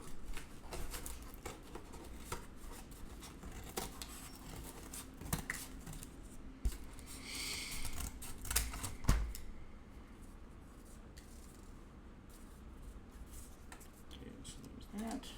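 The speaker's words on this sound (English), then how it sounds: "cut out the different regions first, and then do the detail cut second" Scissors cut out cardboard pieces for a cardboard kitty model, giving quiet, close snips and crisp rustling scrapes in an irregular rhythm over about fifteen seconds, with occasional sharper clicks and faint speech.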